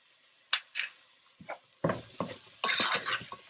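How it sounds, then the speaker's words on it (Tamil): Green chillies with coriander powder being sautéed in a pan for an Indian karuvadu kuzhambu: a faint sizzle under scattered spoon scrapes and clinks against the pan, quiet and close. "2 கீறி வச்சிருக்கிற பச்சை மிளகாய் இத்தனையும் போட்டு ஒரு நிமிஷம் வதக்கலாம்"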